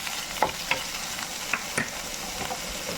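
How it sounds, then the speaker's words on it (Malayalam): Green chilies and curry leaves frying in a pan while okra mappas is being cooked, a faint, steady sizzle with a few soft clinks and scrapes of stirring scattered through. "പച്ചമുളക് ഇടുക, കരിയാപ്പില നല്ലോണം വഴന്ന് കഴിക്കും."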